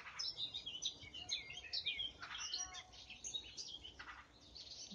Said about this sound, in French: il y a plein d'oiseaux qui arrivent